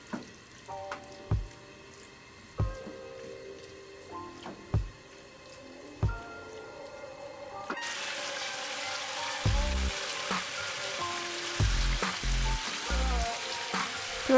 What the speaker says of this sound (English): Heat up the frying pan over medium-high heat until the chicken skin is brown.